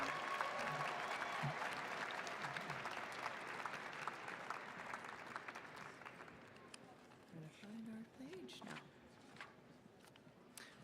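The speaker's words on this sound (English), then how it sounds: "Please join me in a round of applause for the graduates of the Masters of Arts Management program." A graduation hooding ceremony audience applauds graduates of a Masters of Arts Management program, with sustained clapping from a large crowd that slowly thins out, and a few voices and cheers underneath.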